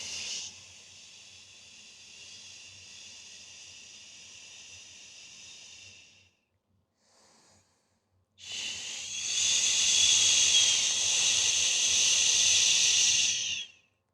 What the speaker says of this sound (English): do the long exhale through pursed lips, or the sh sound